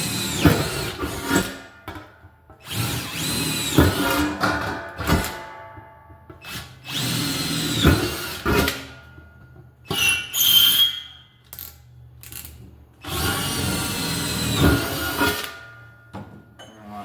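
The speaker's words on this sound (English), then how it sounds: "as a way to drill them holes." A power drill boring pilot holes with a hole saw's drill bit through a drum while building a VersiFire DIY kit, whining in several long bursts with short pauses between them, close and loud, with no talking.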